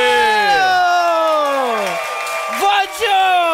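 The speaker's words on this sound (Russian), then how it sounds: "Несмолкающие аплодисменты" A restaurant audience greets a guest on a talk show with cheering and whooping, loud and continuous, with rising and falling shouted calls over a dense crowd roar throughout.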